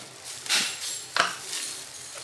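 A spoon clinking against a bowl while salt is added to chicken for frying, two distinct bright clinks with softer rattles between, close and without speech.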